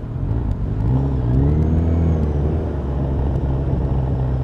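Suzuki Bandit 1250 motorcycle engine running on the road, a continuous mid-pitched exhaust note that rises and falls with throttle; distinct pops and crackles are not clearly separable.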